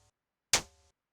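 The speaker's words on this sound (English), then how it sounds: "it sounds like a dirty, noisy clap" Dirty, noisy synthesized clap from a Yamaha Reface CS, built from a shaker patch pitched lower: a single bright, gritty burst with a quick attack and a short buzzing decay, alone.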